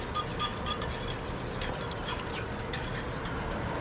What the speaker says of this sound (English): And you always want to mix off the flame.